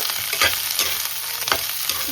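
Chopped capsicum frying in ghee in a pan for chilli soya, a steady close sizzle with a few scraping stirs of the spatula, no voices.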